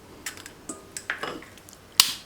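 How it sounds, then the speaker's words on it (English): Eggs cracked against a mixer bowl, a few sharp close taps and clicks of shell on the rim, then a brighter clack near the end. "Crack the eggs in the mixer bowl"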